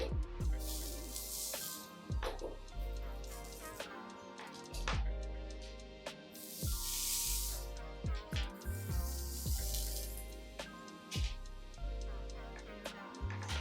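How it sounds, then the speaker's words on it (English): Spritz hairspray sprayed onto the parting of a glueless wig before a hot comb is used, heard as short close hissing spray bursts over a steady background with musical tones. "And then I'm gonna take just a little bit of spritz and use my hot"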